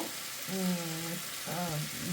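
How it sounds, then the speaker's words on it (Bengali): Peeled boiled eggs fry lightly in a pan without turmeric for an egg korma, giving a steady, close sizzle that swells briefly twice under a constant hiss. "ভাজবো হালকা একটু ভাজা দিয়ে নেব"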